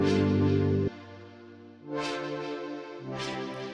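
Synth tones in a K-pop style beat play alone: a sustained chord cuts off, then layered synth notes return in short sections with bright swells on top.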